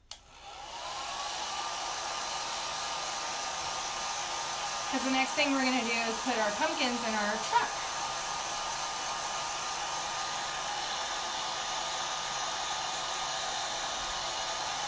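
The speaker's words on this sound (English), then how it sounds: "So I'm going to use my hair dryer real quick." A hair dryer blows on a reusable board to dry chalk paste, a steady close whooshing whine that runs throughout while someone talks over it briefly partway through.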